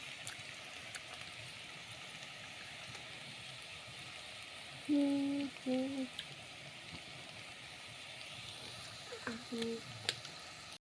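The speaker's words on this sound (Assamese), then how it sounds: "কুচিয়াখিনি দি পেলাই অলপ ভালদৰে ভাজি ল'ম" Mud eel (kuchia) fries with onions in a pan, giving a quiet, steady hiss with a few brief louder sounds over it.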